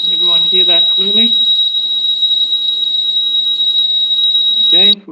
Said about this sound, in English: does the alarm turn on?